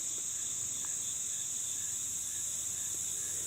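A steady, high-pitched chorus of crickets and other insects trilling continuously at a farm archaeological site, with no voices and only faint background noise beneath.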